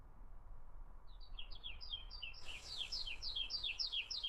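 A bird sings a repeated series of quick, bright, descending notes, joined by a second singer, over a low rumbling background.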